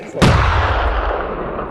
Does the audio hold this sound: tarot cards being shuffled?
no